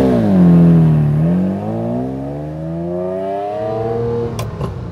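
A 1995 Ferrari 456 GT with a manual gearbox drives past, its engine note rising and falling through a smooth sweep before settling into a steady hum, loud and close, with a brief clatter near the end.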